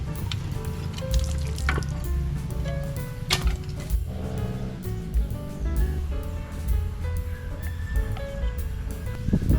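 A Pedrollo water pump pushes water through a newly installed line, a loud continuous gushing and splashing flow with gurgling surges, running steadily on its own.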